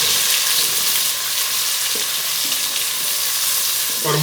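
Finely chopped tomatoes stirred and frying in a pot for matar pulao, a loud, steady sizzle with occasional spoon scrapes and knocks against the pot.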